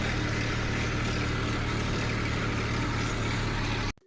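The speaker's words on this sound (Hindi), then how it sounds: "जहाँ पर हमको सोयाबीन निकालनी थी वहाँ पर मैं ट्रैक्टर लेकर पहुँचता हूँ।" Tractor engine arriving at a soybean field, a steady low rumbling drone held close and loud for about four seconds, then cutting off abruptly near the end.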